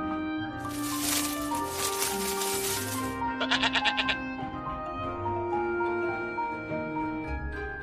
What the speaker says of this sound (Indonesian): Ada domba jantan yang tanduknya tersangkut di belukar.